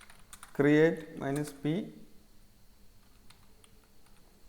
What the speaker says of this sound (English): let me type conda